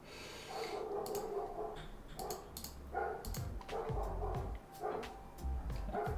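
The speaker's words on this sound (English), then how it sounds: "you can even hear dog barking far away" A dog barks and yips in a few short bursts, distant and faint, against quiet room tone with light clicking and handling noises.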